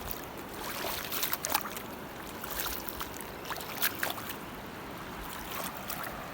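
The Kelani River near Ranwala rushes strongly past at a steady, fairly quiet level, a broad continuous wash of flowing water with small splashy surges and no talking.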